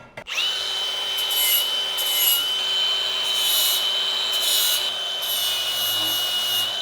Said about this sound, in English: So now I'm going to clean up all these burrs that were left from the chop saw.